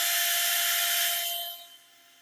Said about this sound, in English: I don't think these drill bits are good.